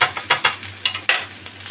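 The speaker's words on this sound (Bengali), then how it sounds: "এরপর এর মধ্যে আমি একটু দইটা দিয়ে দিচ্ছি।" Yogurt stirred into fried ginger in a hot pan gives quick scraping strokes over a soft, steady sizzle, each stir a short sharp burst in an uneven rhythm, close and fairly loud.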